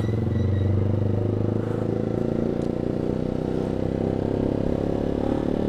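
Yamaha R15 V2 motorcycle engine idling up close: a steady, loud mechanical hum with a constant low drone that stays even throughout, with no voices over it.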